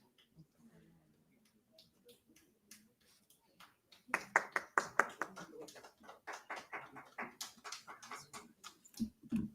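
Clapping from a girl at a summit event, sparse faint claps at first, then a quicker, louder run of hand claps that slows into scattered claps, with some talk in the room.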